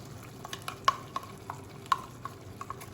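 Masala paste going into frying chicken curry, with quiet sizzling and sharp spoon clinks against the pot, irregularly spaced.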